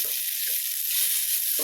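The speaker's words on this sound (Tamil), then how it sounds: "தேங்காய் அப்படியே லேசாக வதக்கிக்காங்க." Coconut and dried fish sautéing in masala for a Tamil dried-fish curry, a steady close sizzle of frying with a few soft stirring scrapes, no talk.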